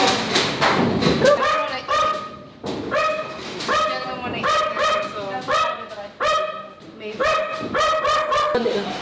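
A Bali dog barking repeatedly in close, loud bursts with yips and whimpers between them, while people talk nearby.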